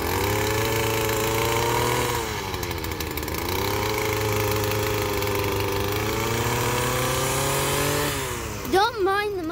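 A moped engine runs steadily in the background of a garden, a droning hum that dips and rises slightly in pitch, with a voice speaking near the end.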